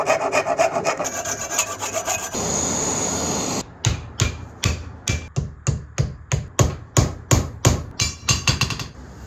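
Hammering a wedge into a hammer handle: after a stretch of rubbing and scraping, a run of sharp, evenly spaced wooden knocks follows, close and loud, with no talk.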